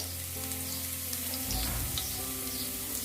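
Garlic frying in a pan, a steady close sizzle that swells slightly partway through, with no talking.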